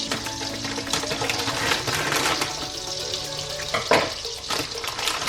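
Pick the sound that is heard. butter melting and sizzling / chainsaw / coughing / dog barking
butter melting and sizzling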